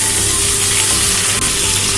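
Chicken pieces frying lightly in a pan with already-softened onions, the chicken seasoned with black pepper, lime juice and salt, give a steady, loud, continuous sizzle throughout, with no one speaking.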